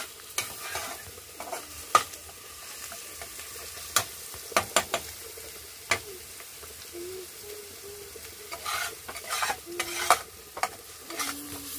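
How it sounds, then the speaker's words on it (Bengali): Ginger and onion paste frying in a pan, a steady low sizzle with repeated stirring scrapes and clicks of a utensil against the pan throughout. "আমার আদা আর পেঁয়াজ বাটাটা ভালোভাবে কষানো হয়ে গেছে"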